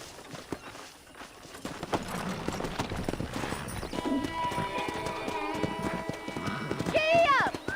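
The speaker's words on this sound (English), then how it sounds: "Let's see if we can't wrangle some horses." Horses in Red Dead Redemption Undead Nightmare, rapid hoof clip-clop of galloping over the ground with a neigh and whinny near the end, under game music and background voices.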